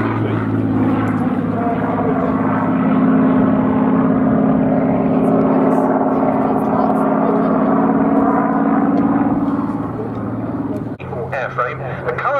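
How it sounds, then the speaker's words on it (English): A P-40F fighter plane with a Merlin engine flying past at an airshow, a loud sustained propeller-engine drone that holds steady, then drops away near the end, with commentary talking over it. "with the noise of the Merlin engine, but that's exactly the combination we have here in Europe's only airworthy example of the P-40F model"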